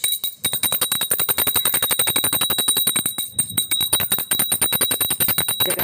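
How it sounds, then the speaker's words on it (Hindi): A small hand bell is rung rapidly and continuously during a morning puja offering, giving bright metallic clangs with a steady high ringing tone, close and loud, with no talk. "थोड़ी सी घंटी बजाकर इनको भोग लगाते हैं।"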